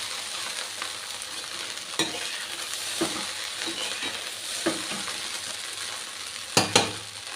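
Restaurant-style chicken fried rice with half-cooked vegetables being tossed in a hot pan: a constant sizzle punctuated by a few scraping stirs and sharp knocks of the spoon against the pan, loudest near the end.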